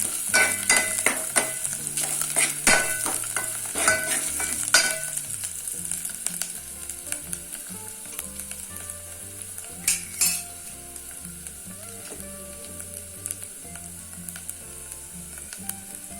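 Freshly ground masala sizzles in a hot pan while a utensil stirs it, with a steady frying crackle and a few scraping strokes early on, close and moderately loud.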